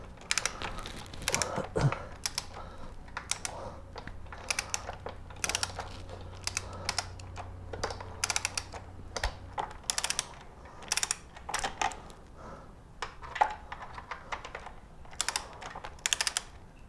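A wrench works a frame slider nut loose on a 2015 Triumph Street Triple 675 R, heard as a long run of quiet, close ratcheting clicks in irregular bursts with no talking.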